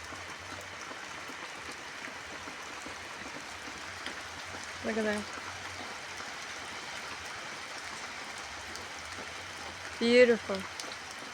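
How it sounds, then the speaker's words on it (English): Steady rain falls outdoors in the evening as an even, continuous patter and hiss; someone briefly speaks twice over it. "I have lots of rain now."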